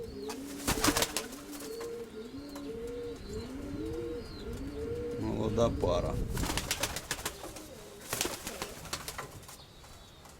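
Steel-coloured white-tailed pigeons in a breeding loft give repeated soft, rolling coos close by, with occasional chirps and bursts of rustling, while someone speaks briefly in the middle.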